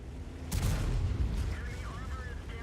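A tank's derp gun fires in the World of Tanks video game: one loud, deep boom rolls into a rumbling tail, followed by faint whistling tones, with no speech.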